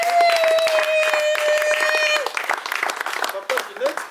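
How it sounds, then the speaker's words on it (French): Guests applaud for Papa Ginette at a civil wedding ceremony, scattered clapping rising under a sustained sung or spoken voice, with crowd murmur and claps continuing as the voice stops. "Est-ce qu'on peut applaudir pour Papa Ginette?"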